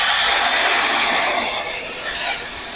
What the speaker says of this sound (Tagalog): Naisipan kong gumamit ng blower para titinan natin kung mailalabas na yung grasa